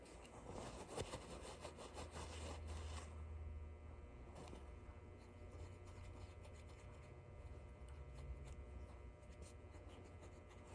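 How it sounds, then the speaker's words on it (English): Someone scrubs and wipes a scooter wheel and its bearing by hand, making close, soft rubbing and scraping strokes in irregular bursts, with quieter handling noises toward the end. "I just clean off the wheel and the bearing, because if they're dirty, they sound"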